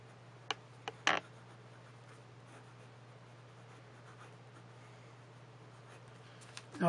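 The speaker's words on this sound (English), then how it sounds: "Fast writing." A handmade, hand-turned resin Benu Sublime Minima fountain pen writes quickly on paper, giving a few faint scratchy strokes and taps over a steady low hum, then near silence.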